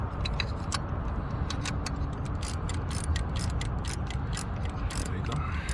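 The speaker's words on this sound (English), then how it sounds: "And that's why you thread it by hand, and then you go ahead and wrench it down." A ratchet wrench clicks in rapid bursts of ticks while snugging down a spark plug beneath the coil on a 1992 Nissan Maxima SE with the VE30DE engine, close and crisp over a steady low hum.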